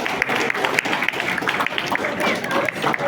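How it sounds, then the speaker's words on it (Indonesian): Audience applause fills the hall at the opening of the 50th-anniversary Jakarta Biennale, a dense, crackling wash of clapping with a few whistles, mixed with voices. "Tepuk tangan untuk Jakarta Bingel."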